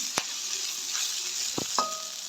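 Crushed cinnamon and pepper sauté in hot oil for a Jaffna-style chicken curry. A soft frying hiss carries the whole time, with a few sharp taps and scrapes from a utensil in the pan.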